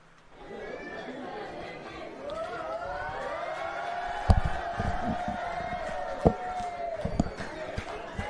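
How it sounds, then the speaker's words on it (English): Crowd murmur and chatter fill a cricket ground during a Top End 2026 match between Nepal and Kingsmen, a steady, fairly distant bed of voices with a few sharper shouts and thuds rising from it. "Great to hear another good crowd in here today, Gardens. Quite a bit of atmosphere."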